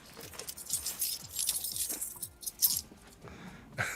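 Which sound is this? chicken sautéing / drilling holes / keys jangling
keys jangling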